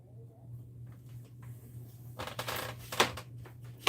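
LEGO pieces are shuffled around by hand, producing faint scattered plastic clicks and rattles that build into a brief cluster of louder clacks over a low steady hum.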